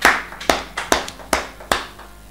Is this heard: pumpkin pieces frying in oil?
no